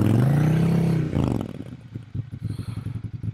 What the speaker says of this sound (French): Qu'est-ce que ça fait du bien d'entendre vraiment cette vibration hein, du moteur.